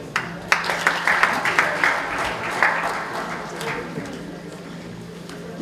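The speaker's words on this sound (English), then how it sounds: "Another round of applause, please, for the Honorable Deputy Speaker." Audience applause at a poetry book launch for a deputy speaker, a crowd clapping with several distinct loud claps near the front, fading to a softer patter with some background voices.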